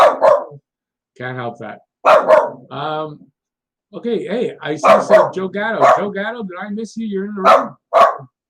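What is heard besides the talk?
dog barking outside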